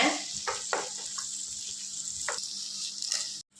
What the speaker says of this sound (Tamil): இப்போ நல்லா ஒரு நிமிஷத்துக்கு எண்ணெயில் ஃப்ரை பண்ணிக்கோங்க